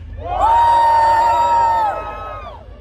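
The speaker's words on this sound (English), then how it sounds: "Yell out as loud as you can." An audience at the opening night of Queen Mary's Dark Harbor haunted attraction in 2019 yells and cheers in one sustained, loud swell of shouts and whoops that fades after about two seconds.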